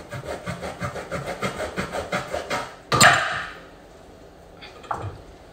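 A knife chops boiled pork into pieces on a board with a quick run of regular rhythmic strokes, then one louder thud, and a last faint knock after a short pause.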